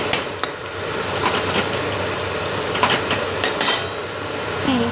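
Panch phoron spices hit hot oil in a home kitchen pan, a soft background sizzle broken by sharp clinks and scrapes of a metal utensil against the pot, with several louder knocks toward the end and no talking.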